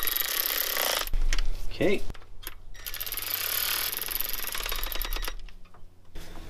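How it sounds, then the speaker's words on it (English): A ratchet clicks in short bursts while steel bolts are tightened into an iron cylinder head against an aluminum surface on a 4.0L Jeep Cherokee XJ. A brief spoken word and workshop clatter surround the clicking. "we are tightening steel bolts into an iron head against an aluminum surface"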